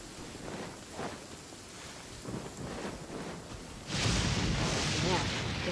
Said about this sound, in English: Man, this thunder is loud.